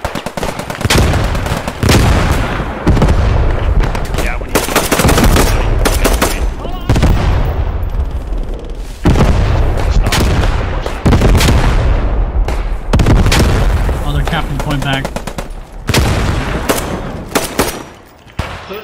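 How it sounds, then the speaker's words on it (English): Heavy, continuous gunfire and grenade blasts from the World War II shooter game Post Scriptum, loud rapid volleys and booms nearly back to back, with players' voices mixed in under the battle. "Oh, grenades!"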